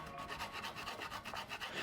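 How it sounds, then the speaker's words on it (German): A metal hand file rasps steadily along the cut edge of a sink opening in a kitchen countertop, with rapid back-and-forth strokes, close and fairly quiet with no talk. "arbeite mit einer Metallfeile"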